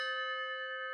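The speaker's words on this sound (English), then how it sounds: "We've got handbells." A single sustained bell tone from a handbell, bright and steady with strong overtones, ringing alone and close for the full second without fading.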